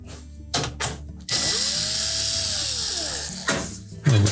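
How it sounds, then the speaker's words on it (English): A power driver removes a 1/4-inch hex head screw from the access panel of a GE range, whining loudly and steadily for about two seconds between a few handling knocks and clatters. "We'll simply remove the screws that secure the access panel in place. These are typically a 1/4" hex head screw."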